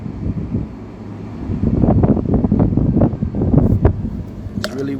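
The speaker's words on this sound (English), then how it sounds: "Really windy up here" Loud wind gusts pound the microphone high up outdoors with deep, rumbling buffeting that swells stronger after the first second and keeps surging.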